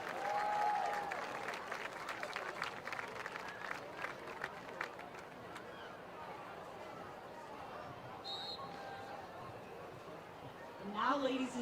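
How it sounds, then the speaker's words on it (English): A high school football crowd at Colerain versus Princeton applauds a coach, a broad, moderately loud clapping wash mixed with crowd chatter and an announcer's voice over the stadium. "How about a nice round of applause for Coach Debbie Costin."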